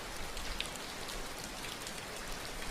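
Steady rainfall hisses evenly throughout, a soft, constant wash of drops with no voices.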